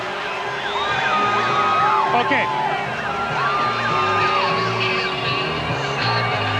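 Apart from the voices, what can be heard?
football crowd cheering in Calgary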